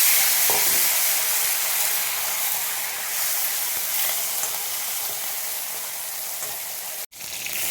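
Black cumin seeds and eggplant sizzle and fry in a hot pan, a steady, close hissing crackle that runs almost without a break. It cuts out for a moment near the end, with no talking.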